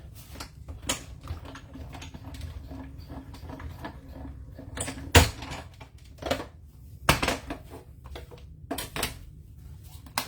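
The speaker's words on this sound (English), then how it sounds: "So we'll run that through our cut and emboss machine." Cardstock fed through a cut and emboss machine with a plate and embossing folder, giving a steady low mechanical rumble broken by sharp clicks and clacks of the machine, close and moderately loud, with no talking.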